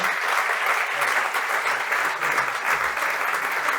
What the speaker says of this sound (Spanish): darle otro fuerte aplauso